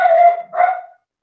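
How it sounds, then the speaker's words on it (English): A dog barks twice in quick succession, loud and close, in a quiet indoor room. "that's the stupid dog"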